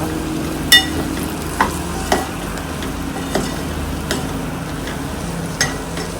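Vegetables and spices sauté gently in oil over a low flame for masale bhaat, a quiet steady sizzle broken by a few sharp spoon taps against the pan.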